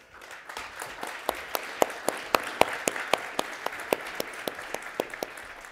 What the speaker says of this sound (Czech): v tom případě si pozveme tady Míru Jakuba, požádal bych o potlesk.